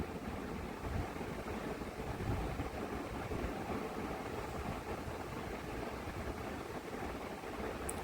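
Pabda fish fry in mustard oil in a continuous, dense sizzling hiss, close and steady throughout, with no voices.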